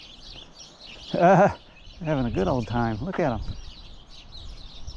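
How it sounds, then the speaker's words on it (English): A flock of small birds gathered on a trampoline in a front yard chirps and twitters faintly in the background, nearly continuous, while someone talks close up over them. "There's all the little birds. They're just having a good old time together. Making a lot of noise."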